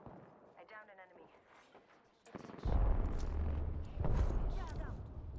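Gunfire in the shooter game Apex Legends, a loud burst of rapid heavy shots after a quieter opening, with a second surge near the end and game voices mixed in.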